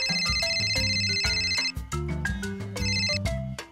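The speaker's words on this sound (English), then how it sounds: "my phone is ringing." A mobile phone ringtone plays a bright, repeating electronic melody, loud and close, with no voices.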